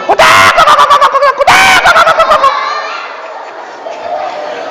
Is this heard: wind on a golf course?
no